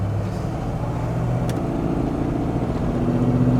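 Engine of a 1984 Jeep Grand Wagoneer Limited 4x4 running while driving at highway speed, a steady low drone with road noise, continuous and moderately loud, with no talking.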